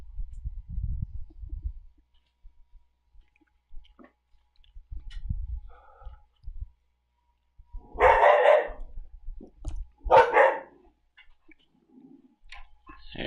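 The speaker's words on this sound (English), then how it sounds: "She's such an adorable dog." A pet dog barking indoors, two loud sharp barks close by after a stretch of quiet low rumbling and faint clicks.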